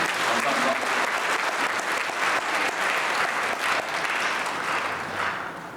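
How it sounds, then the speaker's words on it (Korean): Sustained audience applause filling a church lecture hall after a talk by a pastor, dense and steady clapping from a large crowd that fades slightly toward the end. "다시 한번 뜨거운 박수 부탁드리겠습니다"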